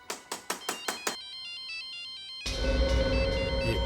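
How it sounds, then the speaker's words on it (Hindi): A cell phone ringtone plays alone: a run of bright chiming notes, then a warbling electronic melody, followed by a fuller, louder burst of music. "ये सेलफोन किसका बजा?"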